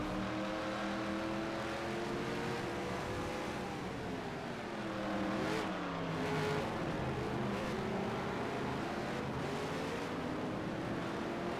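A race car runs through a chicane on a 1.4-mile road course at Colorado Motorplex in a Solstice Proline Cup race. The engine drones steadily at a distance, its pitch sliding down and back up through the corner, with no talk.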